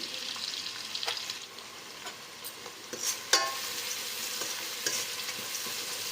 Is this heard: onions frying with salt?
yes